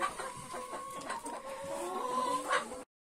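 Village coop chickens cluck steadily and close by, with overlapping hen calls running through the whole stretch and no talk.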